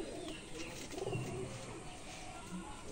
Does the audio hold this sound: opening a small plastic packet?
no